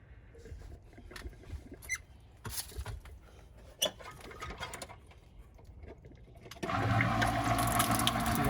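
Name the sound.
pump back-flushing water through water heater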